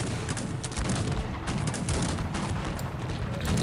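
Dense, continuous volleys of cannon and howitzer fire in the strategy game Cossacks 3 boom and crackle together, a steady loud barrage of gunshots and blasts with no pauses.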